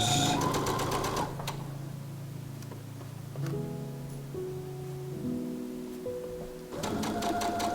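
A sewing machine runs a continuous stitch on a sweatshirt in steady bursts, with a fast rhythmic whir at the start and end and a quieter, slower tonal hum through the middle.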